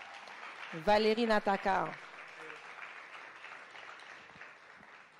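Steady applause from an audience at an awards evening, a continuous diffuse patter under and after a brief announcer voice naming someone.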